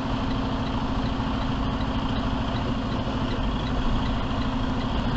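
A semi truck tractor's diesel engine rumbles steadily as the rig moves forward to slide a 53-foot trailer's tandem axles back, a continuous, loud, even drone heard close with no voices over it.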